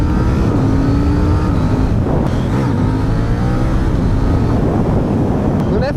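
A KTM 790 Duke motorcycle engine revs loud and close during a wheelie, its pitch rising and falling as the throttle is worked, with heavy wind noise and a rider speaking over it.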